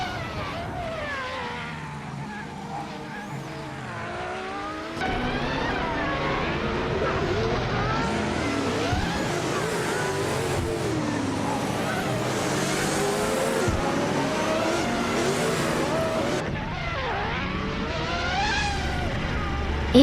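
A 1923 Bugatti Type 32 and other vintage Grand Prix cars race, engines droning and shifting pitch as cars pass, with occasional tire squeal, loud and continuous throughout.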